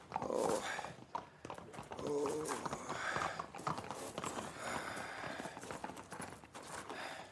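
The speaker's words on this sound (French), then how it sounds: "Et ils enfourchent leurs chevaux." Horses clip-clop away over the ground at a quick pace, hooves thudding in a busy, somewhat distant patter mixed with rustling, a brief whinny-like tone and faint voices in a period drama scene.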